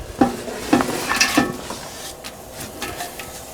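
Onions frying in canola oil in a pot for Baltimore-style kosher chili, with several sharp utensil scrapes and knocks against the pot over a soft sizzle, close and without talk.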